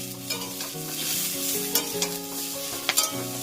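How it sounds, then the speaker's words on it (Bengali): Flat beans frying in a pan with a steady close sizzle, while a utensil stirs and scrapes through them in a few sharp clicks. "সিমটা ভাজা ভাজা হয়ে গেছে"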